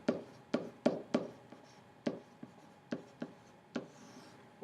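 Pen strokes on paper while working a reference-angle maths problem: a string of about a dozen short, crisp scratches and taps in an uneven rhythm, close and quiet, with no voices.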